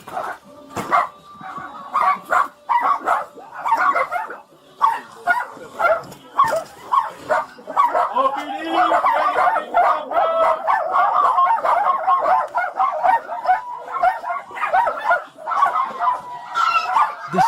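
Dozens of dogs bark, yip and howl at once inside a cluttered hoarder house, a dense, loud, continuous chorus of overlapping barks close by with no pauses.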